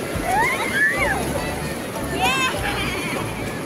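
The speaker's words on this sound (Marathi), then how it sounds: "खूप मोठ्या मोठ्या लाटा येत आहेत" Large waves roar steadily onto Shrivardhan beach on the Konkan coast, a continuous wash of surf with voices talking and calling over it.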